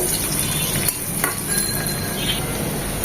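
Chopped onions frying in oil in a pan for a Bengali hilsa fish and taro dish, a steady, loud, close sizzle with faint stirring clinks, no voices.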